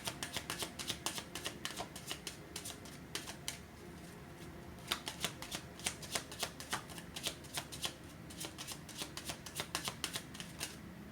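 Tarot cards are handled and riffled close by, with quick papery flutters and crisp snapping bursts repeating in irregular runs over quiet room tone and no talking.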